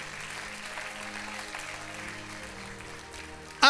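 Congregation at a church service giving a strong offering of handclaps to God, steady dense clapping throughout, with music or organ tones beneath and a sharp louder burst at the very end.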